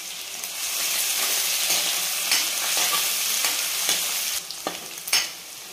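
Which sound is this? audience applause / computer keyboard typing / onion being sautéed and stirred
onion being sautéed and stirred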